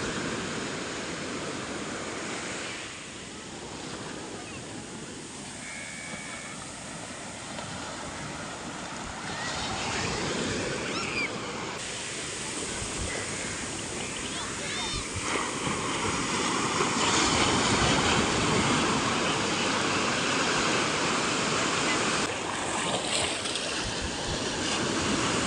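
Sea waves roll onto Varca beach in Goa, a steady broadband wash of surf that swells and recedes in long, continuous surges with no voices over it.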